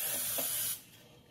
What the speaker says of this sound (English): I like to spray the pan with a nonstick spray, especially that center point